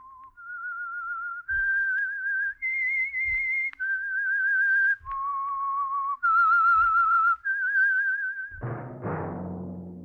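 A solo whistled melody opening a 1947 radio drama, clear sustained notes with slight vibrato stepping up and down in pitch, with faint thumps between phrases and a brief noisier burst at the end.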